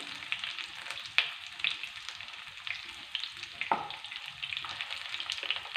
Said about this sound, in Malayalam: ഒരു മീഡിയം ഫ്ലെയിമിലിട്ട് നമുക്കിത് ചെറുതായിട്ടൊന്ന് ഫ്രൈ ചെയ്തെടുക്കാം.